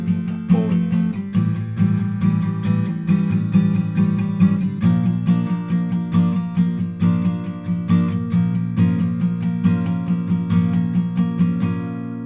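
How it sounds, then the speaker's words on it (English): Acoustic guitar plays a song's second verse in fast, steady sixteenth-note downstrokes, a dense, even pulse of bright chord strikes sustained throughout, close and solo. "strum at 16th notes with all down strums here"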